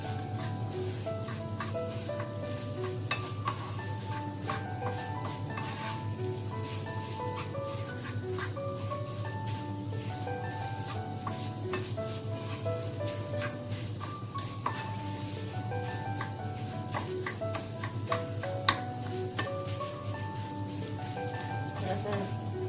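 An ingredient, 250 grams of it, roasting in a pan over medium heat and stirred for a sweet gujiya filling: a soft, steady sizzle with light scraping of the spoon, faint and continuous, with a person speaking quietly over it.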